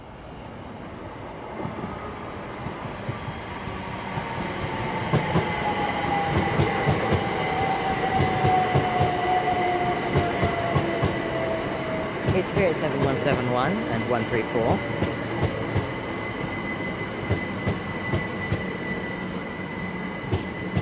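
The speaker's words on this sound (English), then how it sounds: "Here's a train." A Great Western Railway train rolls past at Slough station on the Great Western Main Line for a long stretch, a rumbling roar with rhythmic wheel clatter and a high metallic squeal, while someone speaks briefly over it.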